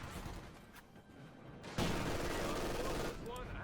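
Machine-gun fire in a Company of Heroes 2 battle: a quiet stretch gives way to a loud, sustained burst of rapid automatic shots at close range that rattles on for over a second before easing slightly.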